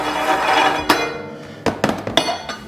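A meat grinder being fitted with a 4.5mm die, heard as a series of close metallic clanks, knocks and clinks in quick irregular succession after a brief rumble.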